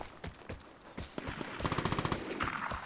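Gunfire in a shootout in the looter game Vigor, with scattered single shots followed by a rapid burst of automatic fire, fairly faint and distant.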